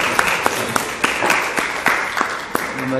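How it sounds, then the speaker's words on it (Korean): A church congregation claps together during a Korean worship service, a dense wash of applause punctuated by sharp individual claps at a steady rhythm, fairly loud and close throughout. "박수 한번 합시다"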